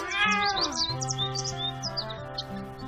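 A cat meows in drawn-out, sliding cries over a background of bird chirps and tonal music, fairly close and steady throughout.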